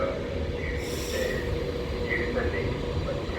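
Avanti West Coast class 390 Pendolino electric train at Stafford station, a steady loud rumble of wheels on rail with brief high wheel squeals, heard close on the platform throughout.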